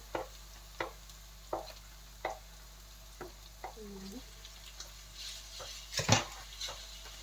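Ground meat tossed into a hot pan with onion and garlic, sizzling steadily while a utensil scrapes and stirs in a string of regular clinks and knocks, ending in a louder clatter.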